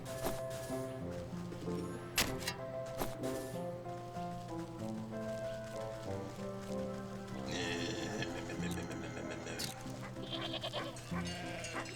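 Goats bleating in the video game Wytchwood, several calls rising over a steady layered musical soundtrack with light rain-like patter.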